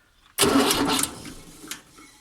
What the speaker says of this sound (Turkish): Şöyle tekrar kontağımızı açıyoruz ve marş basıyoruz.